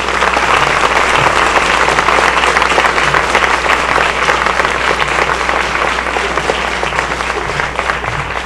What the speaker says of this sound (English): one more round of applause for our inductees tonight